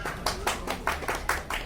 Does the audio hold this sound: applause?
yes